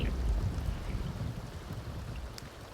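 Rain falls outdoors as a soft, steady wash of patter and low rumble, fairly quiet and continuous, with no speech over it.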